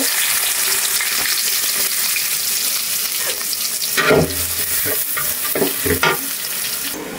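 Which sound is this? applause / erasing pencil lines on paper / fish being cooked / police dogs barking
fish being cooked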